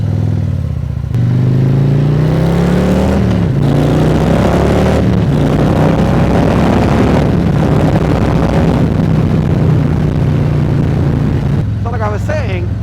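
A Harley-Davidson Street Glide motorcycle with chrome exhaust is revved up close: a deep idling rumble swells into several rising and falling throttle blips, with some wind buffeting on the microphone.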